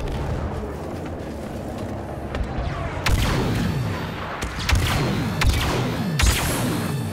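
Dense, continuous gunfire and booming blasts in Star Wars Battlefront II, shooting at aircraft, with sharp louder bursts in the later half over a rumbling backdrop.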